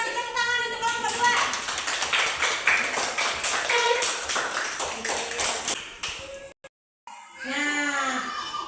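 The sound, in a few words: class applauding group 2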